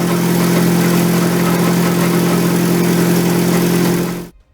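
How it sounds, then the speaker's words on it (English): Prototype 5-litre naturally aspirated dry-sump V8 running on a dyno, a loud steady rumbling drone at constant speed that cuts off abruptly at the end. "they designed a nice little 5 litre normally aspirated dry sump V8 engine"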